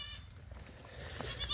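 A goat on a farm gives a faint, brief bleat against low background noise.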